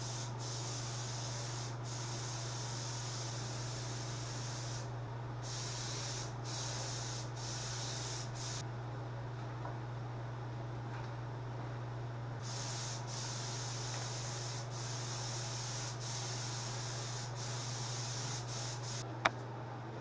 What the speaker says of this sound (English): I'm gonna be spraying here right away.